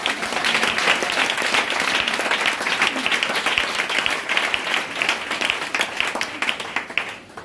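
A church congregation applauds during a morning worship service: loud, sustained clapping from many hands that fills the whole stretch and tapers off slightly near the end.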